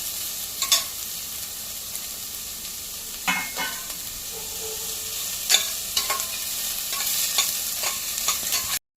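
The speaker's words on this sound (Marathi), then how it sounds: "कांदा चांगला मऊ मऊ होईपर्यंत मस्त शिजवून घेऊया" Onions cook until soft in a pan for stuffed ridge gourd, giving off a steady, moderate sizzle with intermittent clinks and scrapes of a spoon stirring against the metal.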